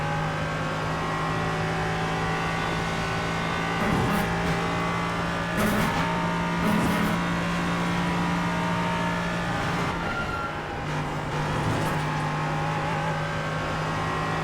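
An LMP3 prototype race car's engine in iRacing at Virginia International Raceway, a steady loud drone held near constant with brief shifts and lifts, close and continuous throughout.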